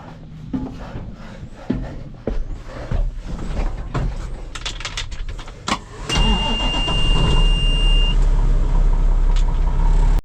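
A grain truck arrives on a farm, an engine that rumbles and shifts through the first half before rising to a loud, steady close roar with a brief tonal whine, with no talking.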